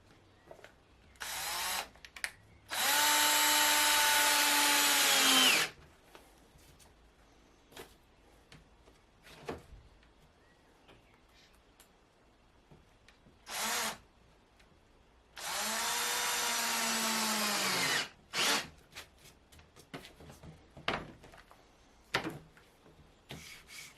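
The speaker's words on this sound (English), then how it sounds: "Then a few small screws will pin it together." A power drill drives small screws into a wooden Eurorack case frame in two whirring bursts of about three seconds each, close and loud. Between them come quiet handling clicks and light knocks.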